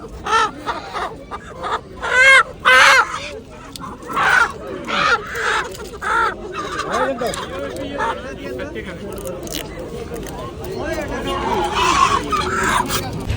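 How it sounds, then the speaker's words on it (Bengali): Chickens cluck and squawk in repeated loud bursts at a live poultry market selling chickens, ducks and pigeons, with people talking nearby throughout. "এখানে মুরগি, হাঁস, কবুতর এগুলো বিক্রি করে।"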